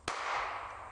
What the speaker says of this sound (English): BB gun, that's a BB gun. Really nice BB gun.